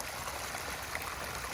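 Water pouring and splashing steadily onto a planted garden row, a continuous close trickling stream with no pauses.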